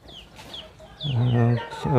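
Hens clucking nearby in short throaty bursts, with a couple of higher chirpy calls at the start; no talking.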